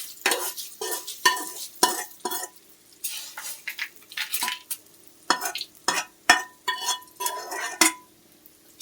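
Rice flour batter for steamed kudumulu being mixed in a bowl, with a run of irregular scraping, stirring and clinking strokes, fairly close and alone.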